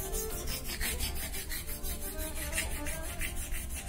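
A knife blade scraping back and forth on a Cretan whetstone wetted with plain water, a gritty, rhythmic rasping in regular strokes, close up and continuous with no talking.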